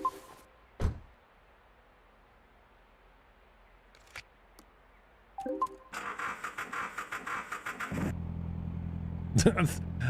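A few clicks and knocks, then a video game car engine starts and revs with a steady, buzzing mechanical drone that rises and holds near the end.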